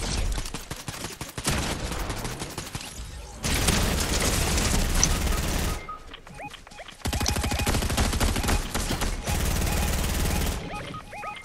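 Heavy gunfire in Fortnite during a sniper battle, long loud bursts of rapid shots and booms with short gaps between them, and a voice talking faintly underneath.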